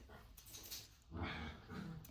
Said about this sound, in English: Sorry for my dog, it's getting crazy.